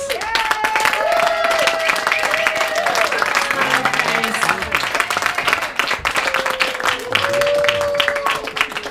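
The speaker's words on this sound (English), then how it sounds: "please give your applause for Margaret." Audience applause at a live clown comedy competition event, steady sustained clapping from a crowd lasting several seconds, with a voice talking over it throughout.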